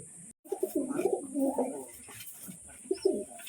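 A pigeon pair coos during courtship, with repeated low rolling coos in two bursts separated by a short pause, close and fairly soft, with no talking.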